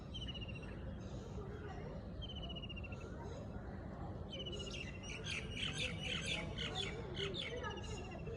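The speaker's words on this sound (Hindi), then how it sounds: "वाह, क्या चिड़ियों की आवाज़।" Birds chirp and tweet in a series of quick, repeated high calls, with some sharper squawks, over a steady low murmur of background noise.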